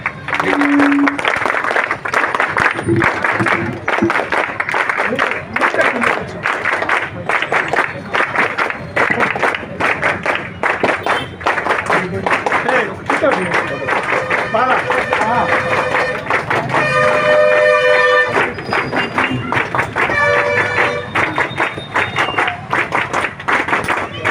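An audience at an Independence Day ceremony in Rentachintala claps loudly and continuously in dense bursts, with crowd murmur and some voices mixed into the applause.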